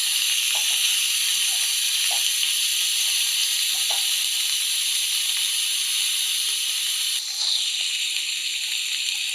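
Drumstick stems, potato and tomato sizzling in hot tempering oil, a loud, even hiss that runs unbroken with faint stirring taps beneath it.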